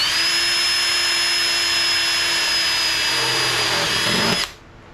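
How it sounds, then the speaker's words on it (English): A power drill bores a hole into the hull of an Excel bay boat, running with a steady, loud, high-pitched whine for over four seconds before spinning down and stopping abruptly. "I'm going to drill another hole."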